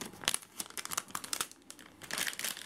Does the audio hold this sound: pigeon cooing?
no